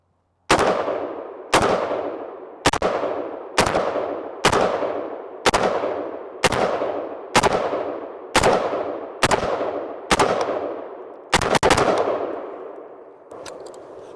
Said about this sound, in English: Yeah, it's very smooth shooting.